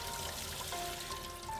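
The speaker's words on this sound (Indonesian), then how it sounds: "kita siram dulu dengan air mengalir" Water runs steadily from a tap over a mud crab being rinsed clean, a continuous moderate pour and trickle with no pauses.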